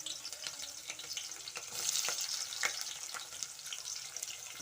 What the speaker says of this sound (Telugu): ఆనియన్స్ బాగా ఫ్రై అవ్వాలన్నమాట